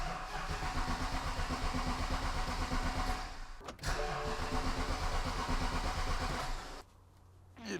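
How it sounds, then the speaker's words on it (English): A BMW E70 X5 V8 engine cranks with a rhythmic churning, pauses briefly, then cranks again before a short quieter stretch near the end. "We want to crank the engine over without firing to build oil pressure"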